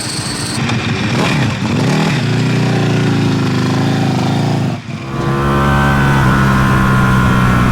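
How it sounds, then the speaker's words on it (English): A race motorcycle on slick tyres revs hard on a track, its loud engine note climbing and falling through gear changes, dipping once briefly before rising again, close and steady throughout with no talking. "Stone Cold Slicks on Steve Rapp's race bike"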